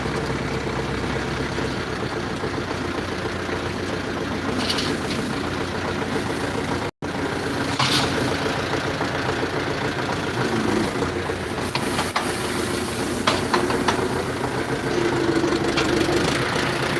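A tractor engine idles steadily with a low, continuous rumble for the whole stretch, broken by a brief sharp click, with no talking.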